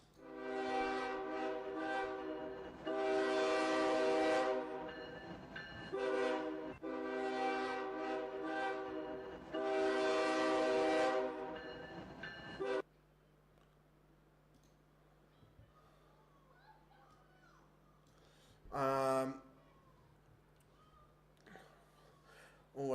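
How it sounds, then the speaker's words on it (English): A train horn sounds as a train approaches a platform: two long, loud, sustained blasts, followed by a quieter stretch of background noise broken by one short, sharp burst. "Ladies and gentlemen, your train approaching platform 1 is..."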